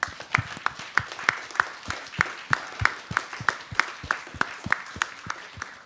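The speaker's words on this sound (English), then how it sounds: "let's give a round of applause for Zia" A theater-talk audience at a conference applauds for Zia, with sparse, distinct claps in a fairly regular rhythm, each sharp hit standing out above a soft room background.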